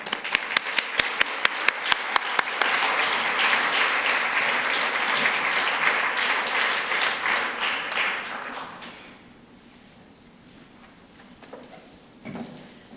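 An audience at the Des Moines Public Library bursts into sustained applause to welcome author Rainbow Rowell, opening with a few sharp claps, then swelling into a full, even roar of clapping that fades out after about nine seconds.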